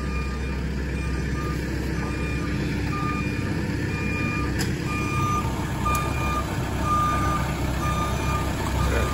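A wireless crawler machine reverses, its backup alarm beeping steadily in a regular rhythm over a constant engine drone, with a couple of faint clicks.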